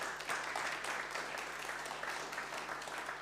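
Steady audience applause at an innovation and finance networking event, a continuous dense patter of many hands at moderate level, fairly distant.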